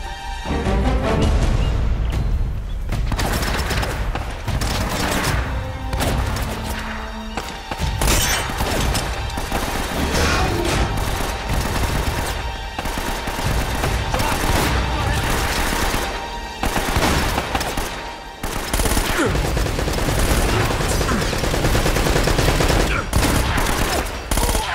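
Mounted gun fire in Uncharted: The Nathan Drake Collection, a dense, continuous stream of loud automatic bursts with crashes and impacts, broken by brief pauses, with game music and effects underneath and little talk.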